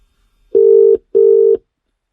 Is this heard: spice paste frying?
no